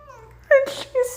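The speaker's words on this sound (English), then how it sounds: "they have an automated cat feeder, and it like drops like on a schedule, and the cat knows the schedule, but she got here early." A house cat meows impatiently at an automated cat feeder that drops food on a schedule: a couple of short, close, whiny cries with a breathy rustle between them in a quiet room.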